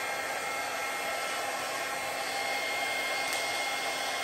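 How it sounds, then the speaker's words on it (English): Blow dryer running steadily with a constant airy whoosh, close and unbroken, with no talk. "Turn off the blow dryer."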